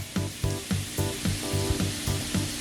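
Brussels sprouts sizzle in butter and avocado oil over high heat. Close, steady frying is broken by a regular series of soft thumps and stirring clatter, with no talking.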